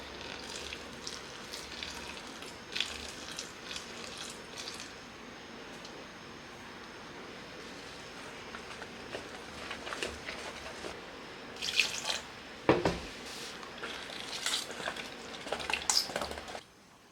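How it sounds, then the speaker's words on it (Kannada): Chili bajji batter with salt, ajwain and chili powder is mixed with water, making faint, wet squishing and sloshing sounds over a steady background hiss, with a few sharper clicks near the end. "ಈಗ ಇದಕ್ಕೆ ನೀರು ಹಾಕೊಂಡು ಮಿಕ್ಸ್ ಮಾಡ್ಕೊಳ್ಳೋಣ"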